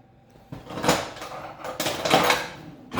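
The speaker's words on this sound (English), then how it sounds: "We're gonna get our masher." Pantry or kitchen clatter while fetching a potato masher: a few loud rummaging bursts of metal and utensils knocking, a cupboard or drawer being handled, with brief scrapes and bangs spread across a few seconds, no talking.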